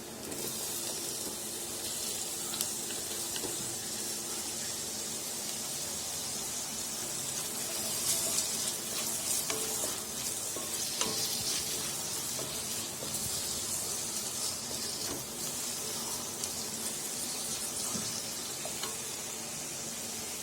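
Tomatoes fry with softened onions in a pan, a dense, even hiss that carries on for around twenty seconds with only faint crackles and occasional light ticks, no voices present.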